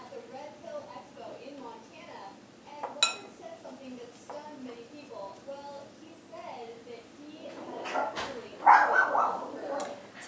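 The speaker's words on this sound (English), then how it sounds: "Sorry for the barking in the background." A dog barks in the background of a home kitchen, its short barks faint and intermittent beneath clinking dishes, cutlery and household clatter.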